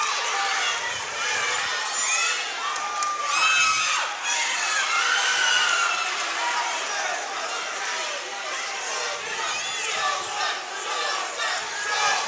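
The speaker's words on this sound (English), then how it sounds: "And the Sosa contingent is cheering already" A boxing crowd cheers and shouts for Sosa at a Philadelphia armory fight, a dense, loud roar of many voices with rising yells, steady throughout and filling the hall.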